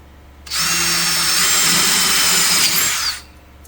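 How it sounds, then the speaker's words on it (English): A power drill with a pilot bit bores into a Jeep Gladiator's metal fender, a loud steady high whine lasting about two and a half seconds with abrupt start and stop, close up and alone. "this bit requires you to drill into your Jeep"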